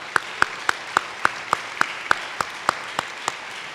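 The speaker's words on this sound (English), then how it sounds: "So I want to give Joe Spencer a round of applause for his work." Single clapping hands at an arts grantmakers conference, sharp claps coming at an even, steady pace, fairly close and clear over a quiet room, with no talk.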